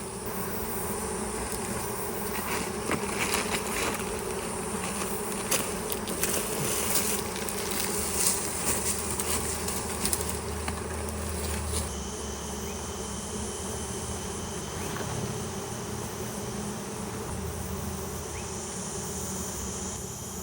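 A swarm of honeybees drones in a steady, dense buzz all around, close and continuous for the whole stretch, with no voices over it.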